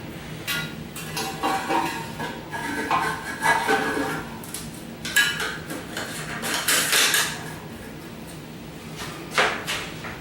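A toilet flapper valve is fitted inside a ceramic tank during a rebuild: a run of close, hard clunks, taps and plastic rattles in irregular bursts, with quiet gaps between.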